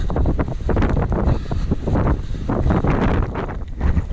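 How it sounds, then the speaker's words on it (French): Strong, cold wind buffets the microphone in a steady, loud rumble during a trail race, with gusty bursts throughout and no voices. "il y a plein de vent et il fait froid"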